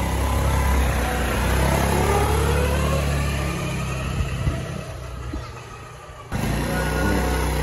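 Honda Beat FI scooter with a worn CVT roller, engine running steadily with a mechanical drone and rising whine, a brief dip near the end before the motor picks back up.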